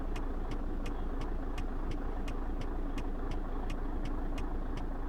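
A Mack Superliner truck in American Truck Simulator pulls away in low gear, its engine a steady, dense drone with a faint regular ticking on top, constant and loud throughout.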